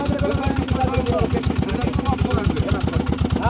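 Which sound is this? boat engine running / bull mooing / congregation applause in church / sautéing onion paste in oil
boat engine running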